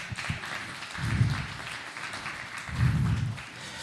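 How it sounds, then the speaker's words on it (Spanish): Congregation applause during a church sermon, a moderate clapping wash with two swelling bursts of low rumble, somewhat distant and fairly quiet. "Dale un aplauso al Señor"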